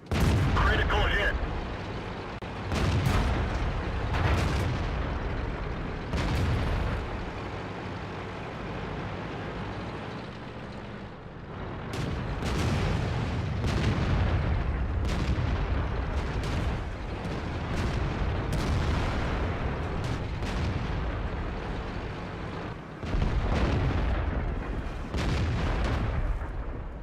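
A tank cannon fires HE shells in World of Tanks on the Himmelsdorf city map, heavy booms recurring every few seconds over continuous engine rumble while a commentator talks.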